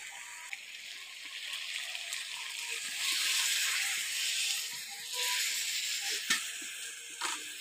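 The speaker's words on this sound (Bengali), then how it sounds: "জলটা দিয়ে ভালো করে নাড়াচাড়া করে মিশিয়ে নিচ্ছি।" Water poured into chicken bhuna masala in a pan and stirred in, giving a steady hissing simmer with occasional scraping clinks of the spoon, close and continuous.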